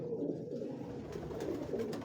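A flock of pure-breed pigeons with blue feet coos on a Lahore rooftop, a soft continuous murmur of low throaty calls close by, with no other sound over it.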